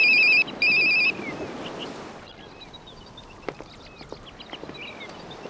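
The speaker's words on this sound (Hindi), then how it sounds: "इस फोन से मैं तंग आ गई हूँ। एक रिंग बजती है" A mobile phone rings twice with a bright electronic tone, then stops, leaving a quiet room with a few soft clicks and chirps.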